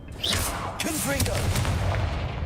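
Blasting spell explosion in the Hogwarts Legacy video game, a booming, rumbling blast that rolls on for a couple of seconds, layered with other game effects and a voice speaking over it.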